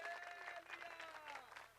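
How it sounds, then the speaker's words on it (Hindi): A congregation at a church prayer meeting in Beldih, Mahasamund claps for God, a steady spread of handclaps sounding fairly faint and distant, with a sustained musical tone running beneath it. "एक बार खुदा के लिए ताली बजाए।"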